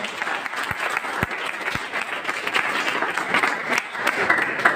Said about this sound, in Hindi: तो मैं चाहूंगा कि पहले तो उनके लिए आप तालियां बजाएं।